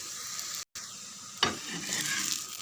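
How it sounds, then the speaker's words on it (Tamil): Carrot, onion, green chili and coriander sauté on top of an instant dosa on the pan, a soft continuous sizzle with a brief gap and a sharper scrape of stirring partway through. "கேரட்டு, வெங்காயம், பச்சை மிளகாய், மல்லி எல்லாமே சேர்ந்து வதங்குது இல்லையா"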